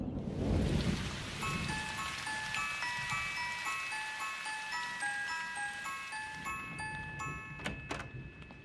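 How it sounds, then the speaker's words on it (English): Heavy rain falls steadily outside in a cartoon, a continuous hiss with a dense patter of drops, while light tinkling musical notes play over it. "It's really raining hard out there."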